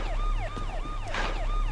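Police car siren played from a phone speaker in a Korean drama scene, a fast repeating wail with a steady rhythmic sweep, heard close and clear with no talking.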